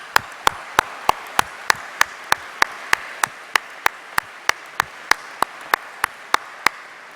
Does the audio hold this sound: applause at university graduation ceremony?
yes